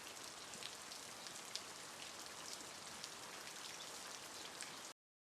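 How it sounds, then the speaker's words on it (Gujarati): Rain falls steadily, a faint, even wash of drops on surfaces with scattered brighter patters, then cuts off abruptly near the end. "વરસાદ ચાલુ છે ભાઈ"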